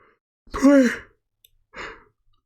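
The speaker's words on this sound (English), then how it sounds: "could edit that yawn out if I wanted to" A single person yawns with a drawn-out, rising then falling voiced breath, followed a moment later by a shorter, softer exhale, close and alone against silence.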